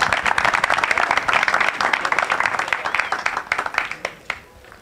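An audience at a motorsport team presentation in Piera claps in a dense burst that thins to a few scattered claps and fades out, with voices mixed in.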